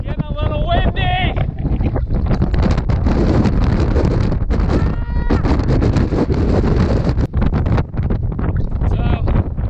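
Gusty wind buffets the microphone on a rainforest hiking trail in Puerto Rico during a downpour, a loud, constant rumbling roar with short breaks and a faint voice in places.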